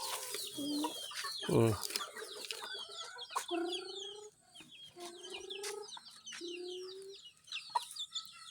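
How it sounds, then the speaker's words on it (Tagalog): Small chickens in a chicken house cluck and cheep while being fed, with several short clucks and chirps close by and a few louder calls. "Pakainin mo yung mga maliliit na chicken."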